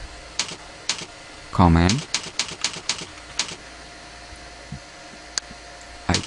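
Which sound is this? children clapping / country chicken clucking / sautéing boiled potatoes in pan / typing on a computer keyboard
typing on a computer keyboard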